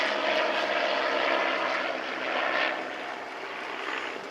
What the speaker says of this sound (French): Cet avion, le Mosquito, on a parlé de Havilland, de ce constructeur anglais